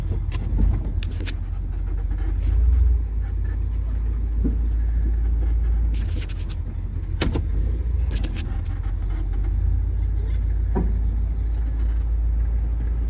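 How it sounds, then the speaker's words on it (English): A 1968 Ford Galaxie XL convertible engine idling with a deep steady low rumble, broken by intermittent sharp pops and cracks from underneath, heard close up. "A lot of popping and cracking going on underneath here."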